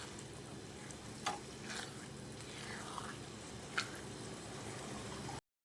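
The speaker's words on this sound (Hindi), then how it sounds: "दही के साथ मैंने अच्छी तरह से इसको भून लिया" Quiet, steady sizzling of white mash lentils frying with yogurt in a pan over high flame, with a few soft scrapes of stirring now and then.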